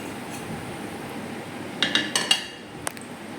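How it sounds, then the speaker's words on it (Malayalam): Fried beef cutlets lifted out of the pan into a dish, a few close metallic clinks and scrapes of utensil against cookware in a short cluster, over a low steady kitchen background. "നമുക്കത് ഒരു പാത്രത്തിലേക്ക് മാറ്റാം."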